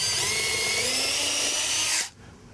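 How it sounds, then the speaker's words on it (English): Power drill pre-drilling a screw hole in a wooden board for a patio cover, a steady loud whine for about two seconds that then stops abruptly, followed by a brief knock. "I'm going to pre-drill it."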